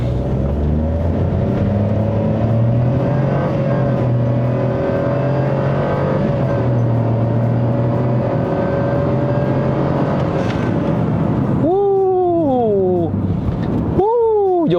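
A Perodua Ativa fitted with a throttle controller pulls hard under acceleration with a loud, steady engine drone, then two sharp falling whistles near the end as the blow-off valve vents.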